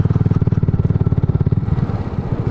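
Honda Grom MSX125 motorcycle fitted with a cheap Chinese aftermarket exhaust, header and muffler, idling loud and close with a steady, lumpy single-cylinder burble that softens slightly toward the end.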